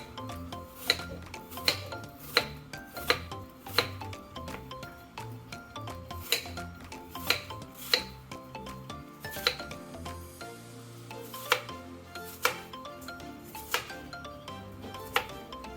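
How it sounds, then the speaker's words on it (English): A knife dices apple into small cubes on a cutting board, making a steady, fairly regular series of soft, close taps and chops. Faint background music plays beneath the cutting. "And cut this into small dices"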